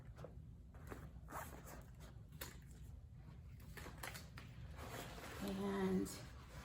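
A zipper is pulled along the front of a mint nylon tote bag, giving close, scratchy rasping that builds and peaks near the end, with soft handling noises around it.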